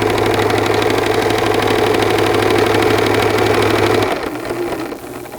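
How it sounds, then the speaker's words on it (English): Sewing machine stitching a straight seam in fabric: a loud, steady, rapid mechanical whir and clatter that runs evenly, then stops about four seconds in, leaving a quieter hum that fades. "I'm just sewing a straight seam."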